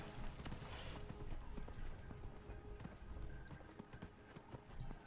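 A horse gallops in Dragon Age: Inquisition, steady rapid hoofbeats drumming throughout amid outdoor game ambience.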